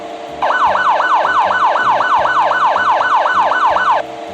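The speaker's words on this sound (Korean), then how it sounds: "사이렌 소리는 이렇게 세 가지가 있고요." An emergency vehicle siren in the 3D Driving Class (3D운전교실) video game starts abruptly and wails in fast, rapid yelp sweeps for about three and a half seconds, loud and close over a low engine rumble, then cuts off.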